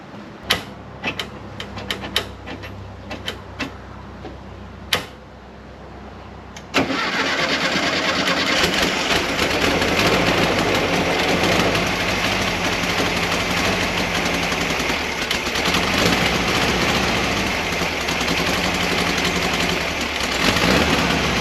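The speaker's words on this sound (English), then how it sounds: "I'm going to go ahead and hit the key and see if we can make some noise" The engine of a 1968 Volkswagen Westfalia bus cranks a few times, then catches and settles into a loud, steady idle running close by.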